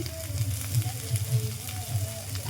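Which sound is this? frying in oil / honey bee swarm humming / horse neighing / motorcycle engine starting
frying in oil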